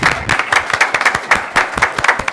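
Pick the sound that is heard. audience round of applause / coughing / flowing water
audience round of applause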